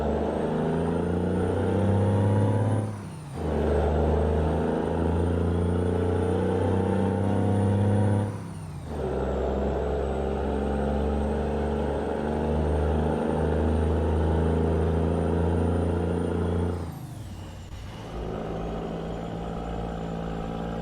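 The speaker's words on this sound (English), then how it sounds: "let you guys take in the sights and the sounds of this beautiful cabover" Engine of a Marmon 110P cabover truck in a trucking game mod, a loud, steady diesel drone with deep low rumble that briefly dips and shifts tone several times as gears change, with no one talking.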